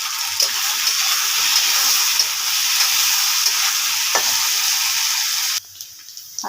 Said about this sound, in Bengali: নুন দিয়ে ভালো করে একটু ভেজে নেবো।